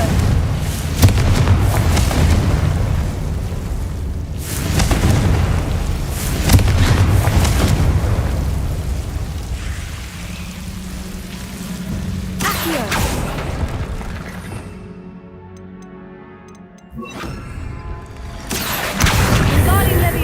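Confringo fire spells blast in the Hogwarts Legacy video game, a string of heavy booming explosions spaced a few seconds apart over rumbling game sound, with a brief quieter gap near the end.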